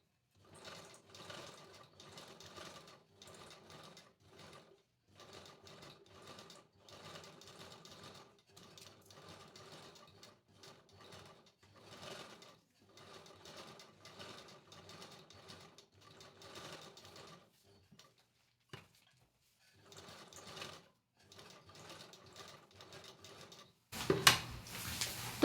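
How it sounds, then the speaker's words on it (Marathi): Sewing machine stitching a drop-shape sleeve, running in quiet, steady bursts of rapid needle clatter separated by brief pauses, with a louder handling noise at the very end. "तर आधी आपण हा आकार स्टिच करून घेऊयात आणि आकार घेताना व्यवस्थित स्टिच करायचा"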